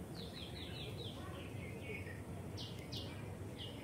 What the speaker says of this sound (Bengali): পাখির গান শুনুন।